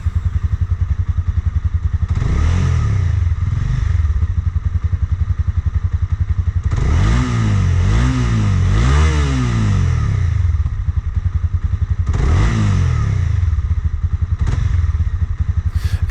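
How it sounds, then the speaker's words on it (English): Honda CB300R single-cylinder motorcycle on its stock exhaust while riding: a continuous raspy engine drone with three rising-and-falling throttle surges, bassy pulsing underneath and wind rush, loud and close throughout. "The stock exhaust isn't a whole lot to write home about, but I was pleasantly surprised that it had a nice raspy tone"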